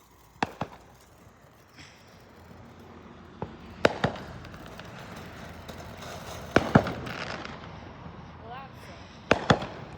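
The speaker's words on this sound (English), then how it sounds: "the title of this video is gonna be called Extreme Fireworks" Fireworks and firecrackers exploding outdoors, sharp loud bangs in scattered clusters with quieter pops and crackles between them.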